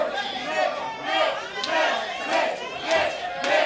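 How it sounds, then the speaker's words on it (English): A wrestling crowd at an FGW event cheers and chants in rising and falling waves for the champion, loud and sustained, with a few sharp shouts. "Mitch Magnus, the crowd definitely behind the FGW champion."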